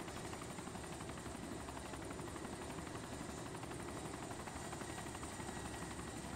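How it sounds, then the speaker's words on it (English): A video game helicopter drones steadily throughout, a dense, even rotor roar that stays loud and unchanging with no voices over it. "gonna run into all of us with the chopper"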